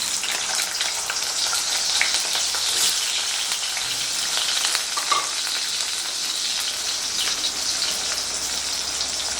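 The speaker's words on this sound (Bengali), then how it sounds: "এই আলুটাকে ভেজে নেব।" Diced potatoes fry in a little oil in a wok, giving a steady, loud, close sizzle with a dense crackling hiss throughout and no voices.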